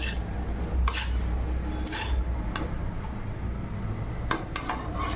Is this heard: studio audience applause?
no